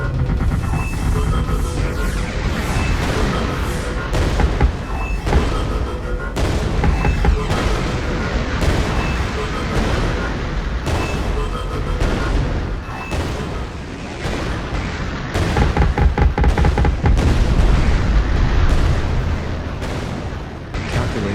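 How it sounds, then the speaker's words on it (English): Sentry weapons self-destruct in the video game Artificial Extinction: a dense, continuous barrage of loud booms and blasts rolls on for about twenty seconds, with sharp bursts stacking over heavy low rumble. "We must not allow our sentry weapons to be captured and studied by the enemy. Beginning self-destruct sequence in 5 seconds."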